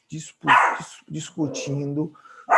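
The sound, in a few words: small dog barking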